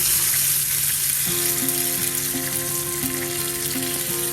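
Pomfret fish frying in hot oil, Kerala style, with a steady loud sizzle and crackle throughout. Spattering pops and a faint tonal hum sit underneath.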